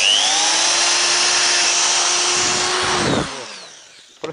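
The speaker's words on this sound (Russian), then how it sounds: "И просто вот здесь в край сверли" A close electric drill whines steadily at high speed for about three seconds, drilling a hole in the edge of a string trimmer spool, then spins down and stops.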